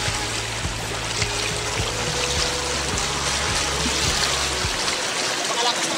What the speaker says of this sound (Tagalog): Napakalakas ng agos mo.